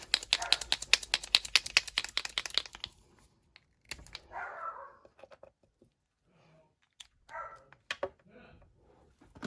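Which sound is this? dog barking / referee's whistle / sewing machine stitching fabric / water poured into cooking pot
dog barking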